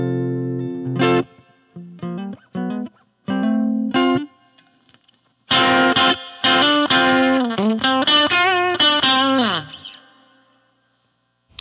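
Cheap Telecaster electric guitar wired like a 1951 Fender Nocaster, played on the neck position pickup: a few separate chords and phrases, then a longer run of quick notes ending in a bend, with a slightly driven tone.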